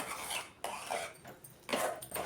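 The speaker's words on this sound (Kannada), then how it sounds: "ಇದನ್ನು ಮಿಕ್ಸ್ ಮಾಡ್ತಾನೆ ಇರಬೇಕು ಲೋ ಫ್ಲೇಮಲ್ಲೇ" Okra chutney stirred in a pan over a low flame, with repeated scraping strokes of a utensil against the pan in an uneven rhythm, close and fairly loud, no voices.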